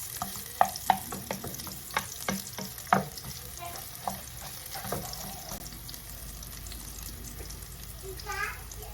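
Onions fry and brown in a pot for coconut milk jollof rice, a soft sizzle under a few sharp clinks and scrapes of a spoon stirring.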